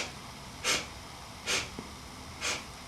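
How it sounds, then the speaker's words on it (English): Singer's breathing exercise: three short, sharp nasal sniffs through the nose, evenly spaced about a second apart, close and clear against a quiet room. "Exhale first, and then 4 sniffs."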